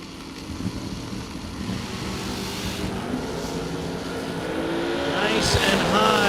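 Drag racing cars launching down the strip at a bracket racing event, engines roaring loudly and building steadily as they pull away, with an announcer talking over the noise.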